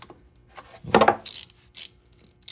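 A ratchet wrench cracks loose the oil drain bolt under a 1985 Honda 250SX, giving a sharp clicking burst followed by a few short, close metallic ratcheting clicks.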